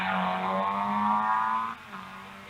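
A vintage Nash car accelerates up a hillclimb course, a loud, rising engine drone that holds for under two seconds and then drops off abruptly as it moves away.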